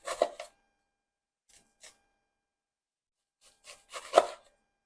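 A knife cuts thin slices of food on a cutting board. A few crisp, close chops come in short clusters separated by pauses of silence.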